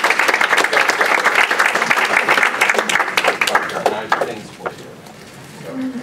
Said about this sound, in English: We have a round of applause.